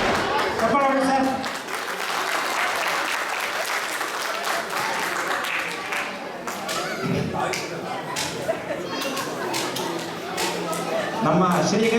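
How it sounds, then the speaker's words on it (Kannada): Applause from a crowd at a Rajyotsava reality-show stage event. The clapping is sustained and fairly close, with chatter and a speaking voice running underneath, and it swells again near the end. "ಬನ್ನಿ, ಚಪ್ಪಾಳೆ ಸರ್."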